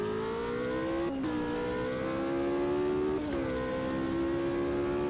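A race car engine in the Automobilista 2 sim racing game drones at steady, loud revs, with two brief dips where the pitch drops and climbs back.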